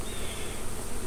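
Steady, dense buzzing of many honeybees during a hive removal, close and continuous throughout, with no voices.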